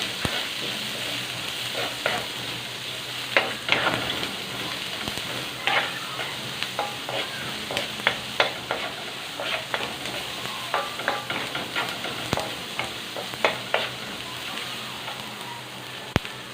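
Onions sauté in a pan for pork binagoongan, a continuous close sizzle broken by frequent stirring clicks and scrapes, with no voices heard.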